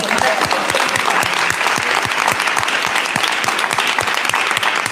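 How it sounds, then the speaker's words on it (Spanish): An audience at a museum radio program's twelfth-anniversary broadcast applauds, loud and sustained, with some sharper individual claps standing out from the dense crowd clapping throughout. "les quiero pedir un aplauso"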